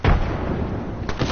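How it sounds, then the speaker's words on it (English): Distant gunfire in the Apex Legends battle royale game, a dull low boom at the start followed by a steady rumbling wash of far-off shots and another faint burst near the end. "I like how you can hear gunshots in the distance."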